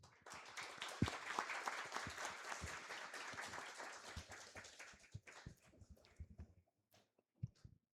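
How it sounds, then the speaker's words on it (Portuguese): Applause at a municipal council session in Brasilândia de Minas, a sustained crowd clapping for about five seconds that thins into scattered individual claps and fades out, heard at a moderate distance. "uma salva de palmas para vocês, que vocês merecem, de coração"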